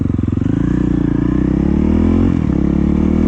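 Honda CRF450L dirt bike single-cylinder engine idling loud and close after a fuel tune, a steady rapid low thumping with a slight shift in pitch partway through.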